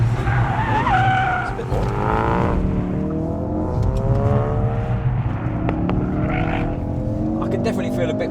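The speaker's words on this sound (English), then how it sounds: "what are we in? drift mode now. Oh, excellent. So this is our tight section." A Ford Focus RS in drift mode skids its tyres through a tight section of track, with a loud, sustained squeal and engine roar running throughout and people talking over it inside the car.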